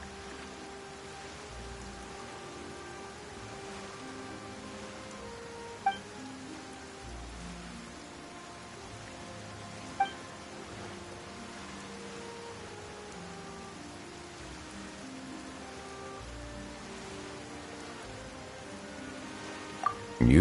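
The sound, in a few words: rain falling, from the video game Genshin Impact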